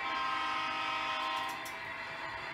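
A train rumbles past with a sustained, tonal horn blast that holds loud and steady before easing slightly, with no voices.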